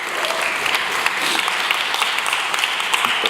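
An audience claps steadily at a talk on nonviolent movements, a dense, even patter of many hands with no voices over it, cheering on a woman nominated for the Nobel Peace Prize.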